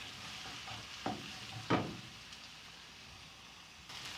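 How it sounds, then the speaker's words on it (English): Thinly sliced onions frying in a pan for a Kerala-style chicken curry, a faint soft sizzle broken by two brief stirring clatters and a later scrape. "fry the onions until they turn light brown in color."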